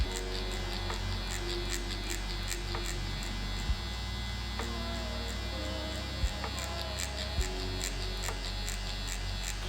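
A permanent makeup machine shading ombre eyebrows gives off a steady low electric hum and buzz, with faint clicks now and then as the needle works.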